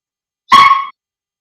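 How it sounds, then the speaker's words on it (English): A single sharp bark from a dog named Gracie, close and loud, lasting under half a second and standing alone in silence. "No barking."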